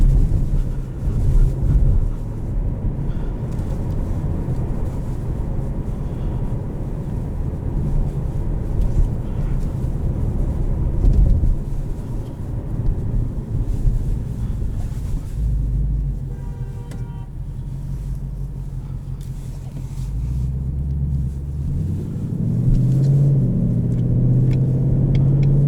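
A 2020 Ford Mustang GT Premium with Performance Package and automatic gearbox rolls slowly over a bumpy road, giving a steady low engine and road rumble from inside the cabin with occasional thumps and a swell near the end.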